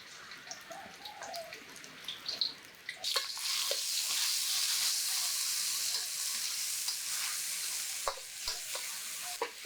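Laksa paste drops into hot oil left from frying shallot, garlic and chili, bursting into a loud, close sizzle that holds steady, with a few stirring clicks and scrapes near the end.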